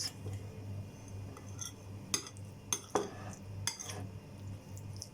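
A spoon mixes curd sandwich filling in a bowl, giving soft stirring under a low hum, with several sharp clinks against the bowl.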